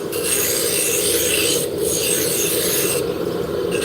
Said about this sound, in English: So we're bringing the diameter down with the roughing gouge.